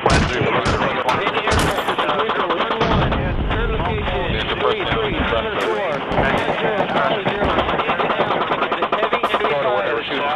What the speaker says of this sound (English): We're seeing fire from left and right.